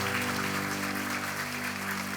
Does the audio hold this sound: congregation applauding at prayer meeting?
yes